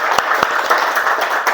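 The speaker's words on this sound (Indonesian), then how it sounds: "Beri tepuk tangan dong" Brief classroom applause from students for a classmate coming forward, a short burst of scattered hand claps with a few sharper individual claps.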